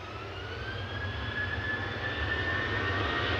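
A Ryanair jet airliner departing Manchester for Dublin gives off a steady engine roar with a thin whining tone, growing slightly louder over a few seconds.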